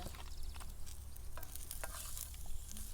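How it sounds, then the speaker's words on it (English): Food crackles and sizzles in an oily pan, quiet, busy spitting and stirring scrapes going on for a few seconds without any talking. "Well, I hear the sizzle now."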